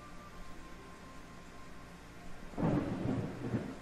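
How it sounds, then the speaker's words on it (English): Rain pours steadily at night with a broad hiss, and a deep rumble of thunder rolls in near the end, swelling the storm noise. "Oh, is Max afraid of the rain?"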